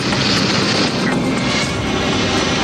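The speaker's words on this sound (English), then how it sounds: "The stunt biplane taxis toward takeoff, led by a second plane carrying the news cameras and a reporter" Stunt biplane engine droning steadily as the aircraft taxis toward takeoff, a loud continuous roar with wind buffeting throughout and no talking.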